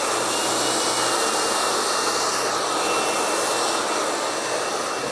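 A hair dryer blow-drying thick hair at a hair salon, a loud continuous whooshing roar running steadily throughout with no talk.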